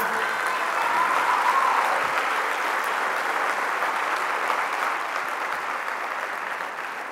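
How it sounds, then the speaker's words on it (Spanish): Sustained applause from a large crowd at a municipal political rally in Alcorcón, a dense steady clapping that holds for several seconds and slowly tapers, with no speech over it. "Quiero pedir un aplauso para Laura por traer aquí los vientos de ese"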